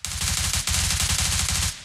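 Rapid automatic gunfire from the mobile battle-royale game PUBG Mobile, a dense, loud burst of shots with a steady rattling rhythm that briefly pauses and then resumes, with no voices over it.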